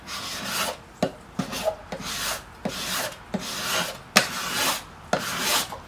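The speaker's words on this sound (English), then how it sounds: "I'm gonna make sure the sides are even. This scraper here is straight across, and it takes care of the bumps." A straight scraper working across the wooden sides of a Trigger 2 guitar, giving about eight rhythmic rasping strokes roughly a second apart, each opening with a sharp bite, close and alone.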